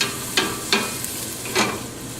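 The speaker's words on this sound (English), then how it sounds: "So we just stir that about until the onion" Softening onion sizzles gently in a pan while being stirred, with a soft continuous frying hiss broken by three or four scraping strokes of the utensil.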